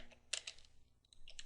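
Keys typed on a computer keyboard while entering a grep command at a Linux terminal, a short close burst of clicky strokes with a brief pause in the middle, no talk.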